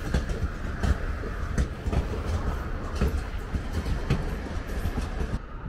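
A nearby train rolls past a parking deck in Denmark with steady rumbling and rhythmic clickety-clack of wheels over rail joints, loud and continuous throughout.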